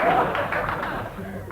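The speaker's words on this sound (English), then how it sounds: "the length of the applause for that was 5 seconds" Studio audience applause on a British radio comedy panel show, a dense steady patter of clapping held at an even level throughout, with a faint murmur of voices underneath.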